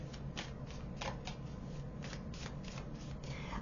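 Tarot cards are shuffled by hand close up, a quiet series of soft riffling swishes in quick bursts.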